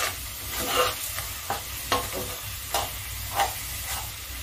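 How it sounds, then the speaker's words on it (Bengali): Masala of coriander powder and a pinch of sugar fries in a pan for butter chana, giving a steady soft sizzle broken by repeated scraping stirs of a spoon, close up and with no talk. "এবার মশলাটাকে আমি সুন্দর করে ভাজা করে নিচ্ছি।"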